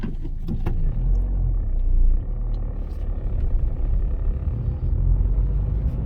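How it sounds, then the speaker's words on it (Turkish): Two cars pull off onto the road at night, with engines rumbling low and steady close by and a few faint clicks and knocks early on. "İki araba yola çıkıyoruz şimdi."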